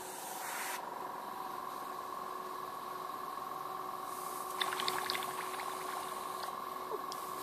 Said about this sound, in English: I'm going to start some air coming through and do the blowback